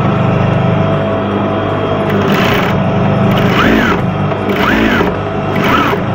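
A sewing machine stitches an apron in quick, steady runs close by, with a whirring motor that rises and falls as it starts and stops.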